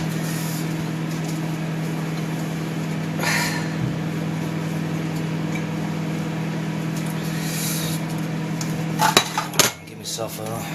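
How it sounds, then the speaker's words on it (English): A plate is fetched and handled in a home kitchen, with a couple of clinks of crockery over a steady background hum, then a cluster of sharper clattering knocks and scrapes near the end. "But I'm going to get a plate."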